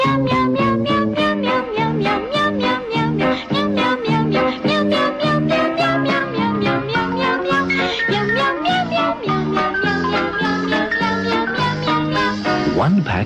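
Cats meowing repeatedly in a pet-food commercial for Meow Mix, a steady run of loud, close meows in a sung, rhythmic pattern that fills the whole stretch with no pauses.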